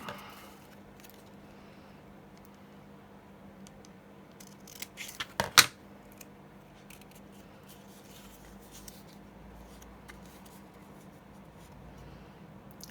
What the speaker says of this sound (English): cut into a little tag shape